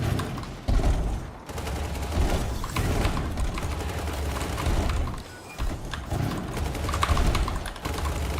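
Twin SMGs firing in a video game, a dense, continuous rattle of rapid gunfire that runs loud and steady for several seconds with only brief dips.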